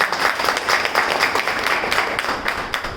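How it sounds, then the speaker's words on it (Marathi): A training audience of LIC insurance agents claps together, a dense, steady round of applause lasting the whole moment without any voice over it. "टाळ्या वाजवा या सगळ्यांना."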